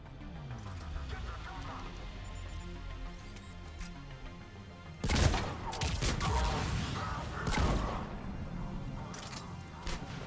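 Gunfire in the video game Mass Effect 3 during a terminal-hacking fight, with a sudden burst of loud shots and crashes after a steady low background, continuing in rattling volleys.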